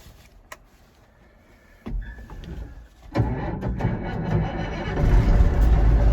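An abandoned Versatile 895 tractor's engine cranks and catches after a few clicks and thumps, then settles into a loud steady diesel roar that grows heavier as the throttle is pushed up, close by and without talk.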